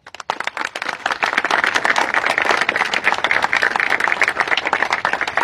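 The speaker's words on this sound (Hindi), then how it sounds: "और ये खुशी एक बार भाई तालियां हो जाए भाई।" Crowd of children and adults at a gurukul in Haryana breaking into loud, sustained applause, dense rapid clapping that starts abruptly and holds steady, close and full.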